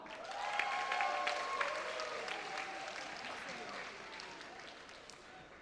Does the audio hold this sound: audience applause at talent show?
yes